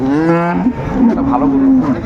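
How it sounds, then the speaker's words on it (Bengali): A dairy cow at a busy rural cattle market in Dinajpur gives one loud, close, drawn-out moo lasting about two seconds, with faint crowd noise beneath. "এখানে গাভী বাছুরটি দেখছেন"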